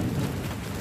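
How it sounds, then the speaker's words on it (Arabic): A hailstorm over Al-Aridah east of Jazan pours down with heavy rain and rumbling thunder, large hailstones striking the ground, forming a dense, steady, loud wash of sound with no talking. "البرد شلون كبرها، والله هي برديه ما شاء الله تبارك الله على العارضه في هذه الاثناء"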